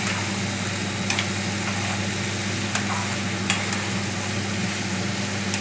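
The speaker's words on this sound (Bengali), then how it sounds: "এবার এটাকে ভালো করে আমি মিশিয়ে দেবো ভালো করে তেলটার সাথে, লাউটাতে।" Chopped bottle gourd stirred into hot oil in a pan, a steady close sizzle with a few sharp scrapes of the spoon against the pan, no talking.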